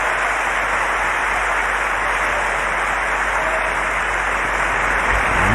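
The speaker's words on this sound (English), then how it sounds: "Listen to the roar of the crowd." Wimbledon 2018 tennis crowd in a women's singles match roaring and applauding as a steady, dense wash of clapping and cheering that runs unbroken and loud throughout, with no talk over it.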